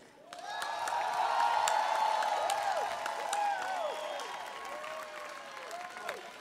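Audience applause and cheers at a live outdoor music festival, heard as a sustained crowd clapping that swells and then slowly fades, with whistles and shouts mixed in.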